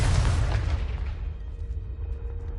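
A Confringo blasting spell goes off in Hogwarts Legacy, a loud booming explosion with a heavy low rumble that starts strong and slowly decays over a couple of seconds, with no voices.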